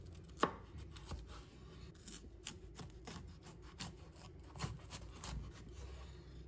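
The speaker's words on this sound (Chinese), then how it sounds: "先将苦瓜切掉头尾，再将苦瓜从中间切开" A kitchen knife slices a bitter melon in half on a cutting board. A sharp chop lands first, then a run of quieter scraping cuts. The strokes are close and fairly soft, and no one speaks.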